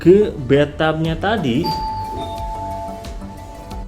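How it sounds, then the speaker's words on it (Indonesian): A villa doorbell chimes with a clear ringing tone that lingers and fades, following a moment of speech. "tadi bunyi bel tuh"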